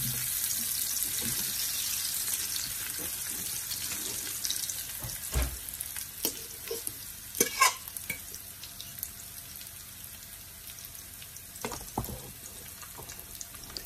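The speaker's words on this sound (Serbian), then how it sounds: "da se krompir stavi i da ovako čvrkne, da bude vrelo ulje" Potato pieces dropped into very hot oil sizzle and crackle in a steady broad hiss, close by, with a few louder pops and clatters as they settle; no talk.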